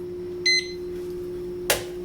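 A kitchen timer gives one short electronic beep as it is set for boiling eggs, over a steady hum, followed by a brief clack a moment later; no talking.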